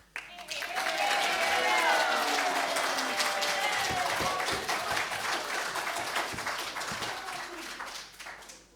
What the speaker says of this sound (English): Could we have more muted applause?